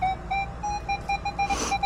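A metal detector held over a buried target at an old homesite beeps in a repeating electronic tone, short pulses in quick succession with a doubled pattern, close and clear over faint outdoor background.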